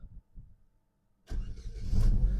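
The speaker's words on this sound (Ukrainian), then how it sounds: "Перевірка стану роботи двигуна." A 2011 Opel Astra H 1.6 MPI petrol/gas engine cranks briefly after a quiet moment, then catches and fires up into a loud, rumbling idle that swells slightly.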